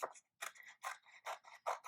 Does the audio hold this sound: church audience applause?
no